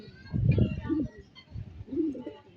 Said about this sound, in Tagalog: Ito na yung mga kalapati. Nagdadatingan